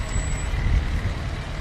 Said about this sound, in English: My kids just couldn't wait to see the fire trucks.